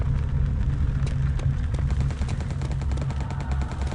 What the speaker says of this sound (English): I hear a machine gun